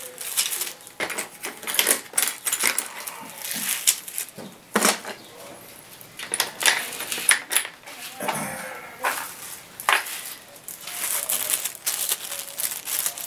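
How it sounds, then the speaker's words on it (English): Pencils drop into a household bag one after another, making irregular clattering knocks and rustling plastic, close and loud in bursts across the clip, with a few gaps of quieter rustle between them. "you can drop your pencils in there like that"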